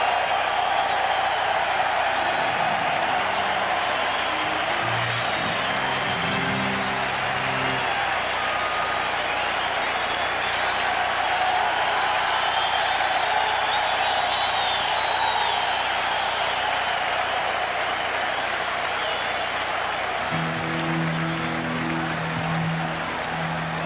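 Baseball stadium crowd at a 1999 Mets–Yankees game giving a sustained ovation for Jeff Van Gundy's ceremonial first pitch, a steady wash of cheering and applause from a large crowd with organ-like tones underneath.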